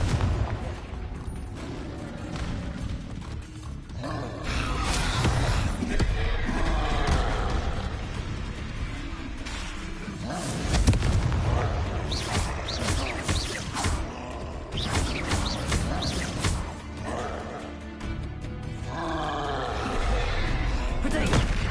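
Repeated Confringo blasting spell explosions in Hogwarts Legacy: booming bursts and crackling impacts amid a dense, loud game soundscape, with a voice speaking at times.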